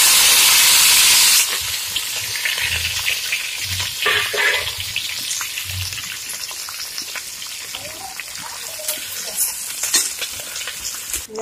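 Chopped onion, ginger, green chilli, garlic and curry leaves dropped into a hot pan for a tilapia chilli curry, a loud initial hiss then steady crackling sizzle with stirring clatters throughout.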